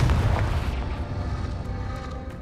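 A Confringo fire spell explodes in the video game Hogwarts Legacy, one loud, deep boom that rolls off into a rumbling decay over a couple of seconds, with no voices.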